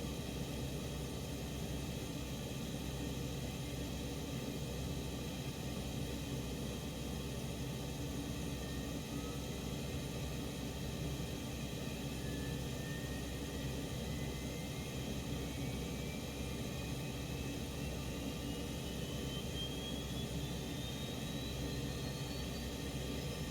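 A Boeing 727-200 jet engine spooling up on start in the X-Plane 11 flight simulator: a steady, dense roar with a thin whine that begins rising partway through and keeps climbing to the end.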